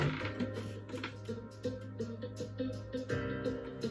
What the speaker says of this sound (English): Nice funky backing track going on there